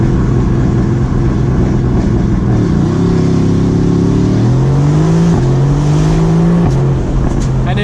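A Mercedes-AMG GT C launches under launch control, its engine roaring loud and close with a steady, dense drone as the revs climb and shift through gears, filling the whole clip without pause.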